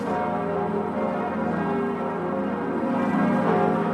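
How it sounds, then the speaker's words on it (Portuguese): Church bells of Paris, including those of Notre-Dame Cathedral, ringing at about six in the evening, a dense sustained peal of overlapping tolls, loud and continuous. "Os sinos das igrejas de Paris, entre elas os da Catedral de Notre-Dame, tocaram por volta das 6 da noite"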